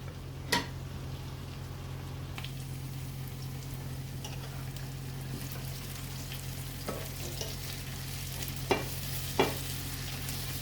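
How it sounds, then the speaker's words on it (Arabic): Onions frying in a pan with meat, seasoned with salt and black pepper, give a steady close sizzle with a few sharp clicks and stirring knocks scattered through, and no talking. "وهذا بصل دا احمس بيه"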